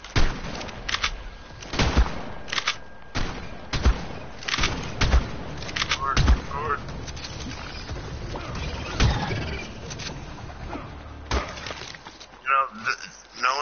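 Gunfire in the video game Ark: Aberration, a series of sharp, loud shots and impacts scattered irregularly, with people talking over the bursts.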